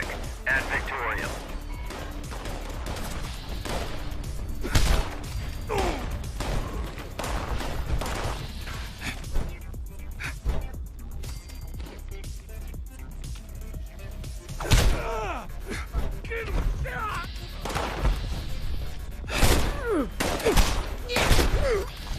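An artillery strike in Fallout 76 sets off repeated explosions and scattered gunfire, sharp crashes and booms spaced irregularly over a busy background, with voices talking at times.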